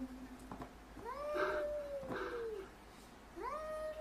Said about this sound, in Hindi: ये कंफर्म बिल्लियों की आवाज है।